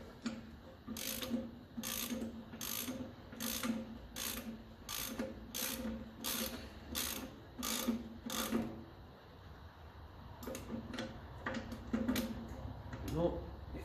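A ratchet clicks in quick bursts of repeated strokes, tightening corroded nuts on a 1954 Ferguson TEF 20 diesel tractor, with a short pause and then more clicking runs, close and fairly clear.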